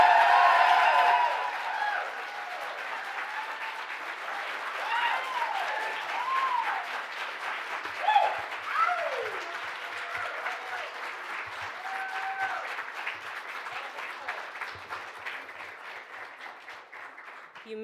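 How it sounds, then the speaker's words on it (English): Sustained audience applause at an evening poetry reading welcoming the first poet, loud at the start and then settling into steady clapping, with faint cheers and whoops rising through it. "I want you to give all the applause you have in your body currently to our first poet for tonight."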